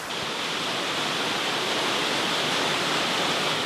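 A flowing stream and waterfall in an American West canyon give a steady, dense rushing roar that stays even and fairly close throughout, with no voices.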